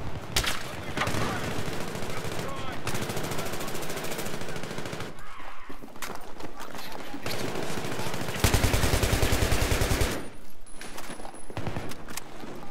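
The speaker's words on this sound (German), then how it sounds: "Ich schieße jetzt auf alles." Battlefield 3 gunfire: dense bursts of automatic fire broken by brief pauses, with one loud sustained burst late on, close and harsh throughout.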